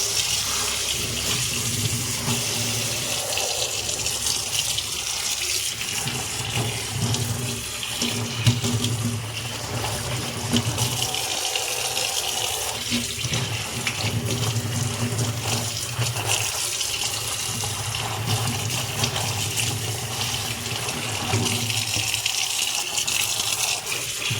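Tap water runs steadily into a sink as cut taro leaves from a home garden are washed. The rushing flow shifts slightly as the leaves are moved under the stream, with no voices.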